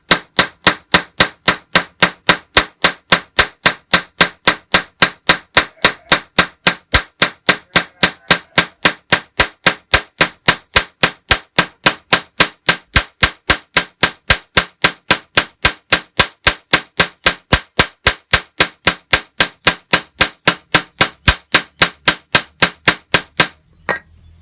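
Steady, evenly paced hammer blows on a clutch part during a Yamaha Vixion motorcycle clutch repair, about two sharp metallic strikes per second, loud and close for over twenty seconds with no talking.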